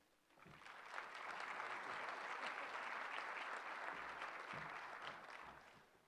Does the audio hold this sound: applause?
yes